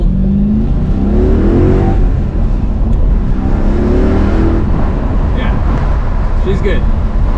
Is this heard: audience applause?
no